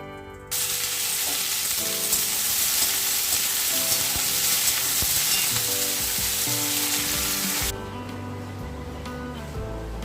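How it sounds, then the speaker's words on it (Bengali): Vegetables with potato and onion hit hot oil seasoned with panch phoron, bursting into a loud, steady sizzle that holds for several seconds before dropping to a quieter frying hiss near the end. "এদিকে তেলে পাঁচফোড়ন দিয়ে দিয়েছি তাহলে চলো সবজিটা বসিয়ে দিই"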